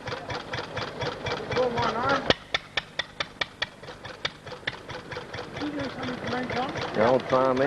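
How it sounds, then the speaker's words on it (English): An old farm stationary engine runs at a model engineering exhibition, a steady rhythmic chugging with a run of sharp regular knocks midway, while voices talk over it near and at the end. "The old farm engine running."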